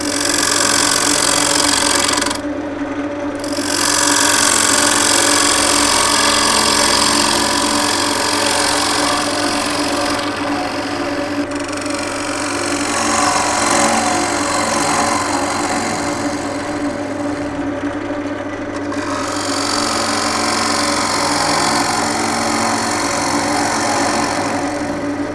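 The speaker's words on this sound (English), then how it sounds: "I'm just going to use my small bowl gouge again just to face this off and do the shaping." Small bowl gouge cutting an oak platter on a spinning wood lathe, a loud continuous scraping whir with a steady motor hum, with short drops where the tool lifts off, and no talking.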